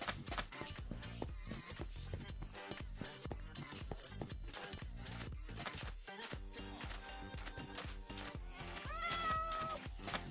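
A cat meows in Minecraft over busy game sounds and music, the meow rising near the end of the stretch.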